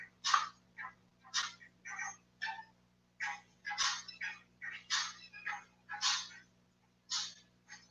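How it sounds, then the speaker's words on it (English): A phone rings with an incoming call, its ringtone coming in repeated short bursts at a moderate, slightly uneven pace, fairly quiet, with no talking. "Somebody calling her on the phone."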